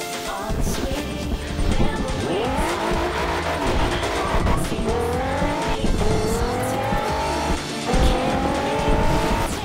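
Several cars in a Forza Horizon 2 convoy drive toward an airfield, engines droning steadily with rising revs and tire squeal, loud and continuous with no talking.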